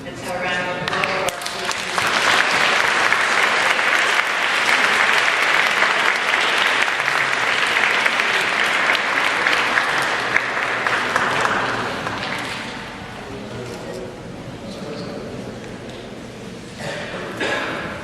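A crowd at a school awards assembly breaks into sustained applause for about twelve seconds, loud and dense, then tapers off into scattered claps, with some talk underneath.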